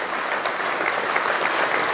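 An audience at a French small-business awards ceremony applauds with dense, even clapping that holds steady throughout, filling the hall without voices standing out.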